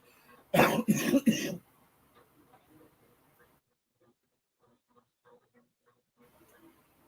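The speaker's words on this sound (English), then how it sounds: "Sorry about the coughing" A burst of several harsh coughs, loud and close, followed by quiet room sound with faint scattered noises.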